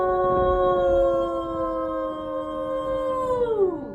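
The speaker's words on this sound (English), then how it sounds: "with the howling of the wolf, we are going to get this shindig started" A wolf howl sound effect plays as a long, sustained, wavering tone that holds steady, then bends downward and fades at the end, loud and alone with no talking over it.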